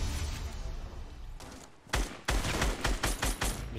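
Other players shooting it out in Fortnite: a dull stretch of distant ambience, then a run of loud, sharp gunshots in irregular bursts, some close together, continuing to the end.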